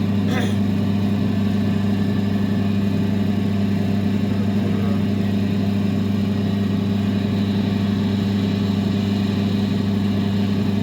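A lapidary wheel runs steadily while an opal is cut, giving a continuous close motor hum with a strong low drone that barely changes over the whole stretch.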